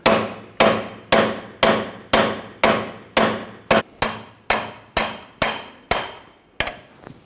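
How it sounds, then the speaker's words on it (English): Steady hammer blows striking a metal punch to drive out a rear wheel axle on a 2006-2010 BMW 550i, about a dozen sharp ringing clanks at an even pace, loud and close. "Just using a punch, I'm just going to hammer the axle out from the center."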